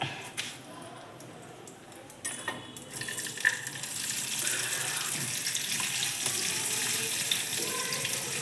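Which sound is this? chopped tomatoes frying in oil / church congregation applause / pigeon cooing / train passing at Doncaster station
chopped tomatoes frying in oil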